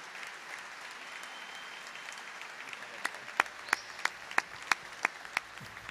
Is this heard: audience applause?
yes